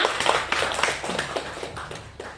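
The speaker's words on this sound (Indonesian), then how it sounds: "tepuk tangan buat kita semua" A seminar audience of primary school teachers at SD Negeri 1 Banding Agung breaks into applause, a short spell of scattered, fairly soft hand claps that gradually thins out.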